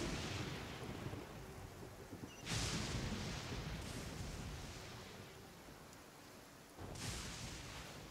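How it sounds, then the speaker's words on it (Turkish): Thunder and lightning strikes in Genshin Impact: two sharp cracks of thunder a few seconds apart, each rolling off into a rumble over steady storm noise like rain, faint and distant, with no talking. "Kafama şimşek düşme olasılığı"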